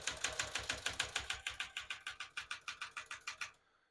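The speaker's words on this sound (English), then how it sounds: "Typically, this is about as loud as it comes when it comes to typewriters, the Super Sterlings" Rapid, steady keystrokes on a 1971 Smith-Corona Super Sterling portable typewriter, a run of about twenty loud, sharp mechanical clacks in even rhythm, close by, stopping abruptly.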